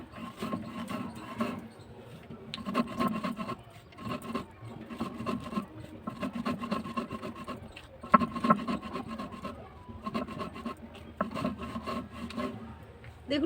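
Sugar and biscuits, with a few cashews, being ground into powder in a kitchen grinder, a rough rasping whir that runs in repeated bursts with short pauses between them, close and steady.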